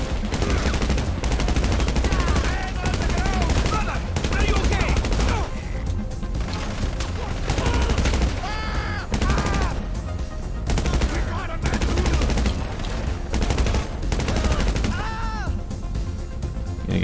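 Sustained gunfire in the GTA Online Cayo Perico heist, with rapid machine-gun bursts and single shots repeating in loud, dense volleys almost without pause, and a voice speaking now and then over the shooting.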